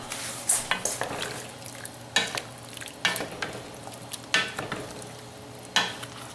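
A pot of beef stew with strong beef stock and potatoes is stirred, producing intermittent scraping and knocking strokes over a faint low simmer, with about seven distinct utensil hits spread unevenly.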